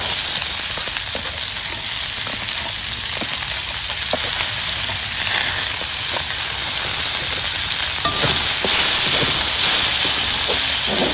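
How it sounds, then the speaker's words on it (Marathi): Chopped onion frying in hot mustard oil for a village-style radish bhaji tempering, giving a loud, continuous close-up sizzle and hiss with faint stirring scrapes throughout. "तर कांदो घालतोय फोडणी."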